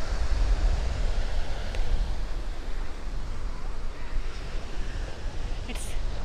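Ocean surf at Kovalam Beach in Trivandrum makes a steady, close roar of breaking waves mixed with wind noise, with no clear pauses between swells.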